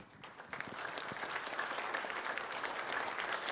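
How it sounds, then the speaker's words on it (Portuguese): A church congregation at a family Mass applauding together after the Gospel reading, dense steady clapping from many hands filling the room at moderate volume for several seconds. "Aplaudamos a palavra do Senhor"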